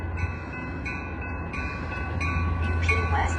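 Metra commuter train, with a wrapped locomotive and a heritage unit, pulls into a station; a steady low rumble and rail noise build gradually, with no talk.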